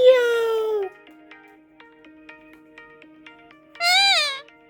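Two meow-like calls frame a quiet stretch of faint background tones: a lower, falling one at the start, then a higher, wavering one from Sky the parrot imitating a cat.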